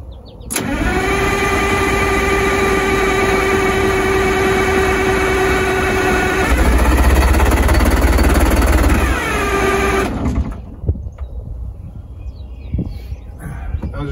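The 6V92 diesel engine of an MCI MC9 bus cranks and fires, a loud, steady starter whine followed by a deep rumbling surge as it catches, then cuts out abruptly near the end.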